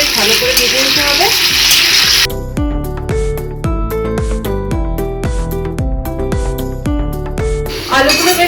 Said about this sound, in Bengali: গ্যাসের আঁচটা লো টু মিডিয়ামে রেখে আলুগুলো বেশ ভালো করে ভেজে নিতে হবে